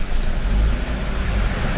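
A 2018 Toyota Calya E manual pulls hard in second gear on a toll road, its engine roaring under a steady, loud rumble of road and wind noise from inside the cabin.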